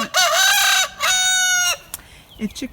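A rooster crows loudly and close by in two long, strained calls, followed by a few softer clucks and rustling.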